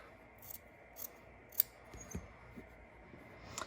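Scissors trim the fabric seam allowance of a waistband with a few faint, quiet snips and light rubbing, close by and without talking.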